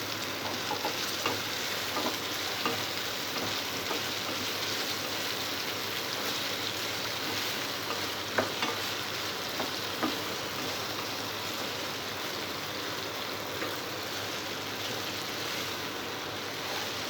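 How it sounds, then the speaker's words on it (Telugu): Potato pieces frying in a pan, a steady dense sizzle that holds at an even level throughout, with a few faint clicks from stirring and no voices. "ఈ బంగాళాదుంపల్ని బాగా ఫ్రై అయ్యే వరకు మూత పెట్టి ఫ్రై చేసుకోవాలి"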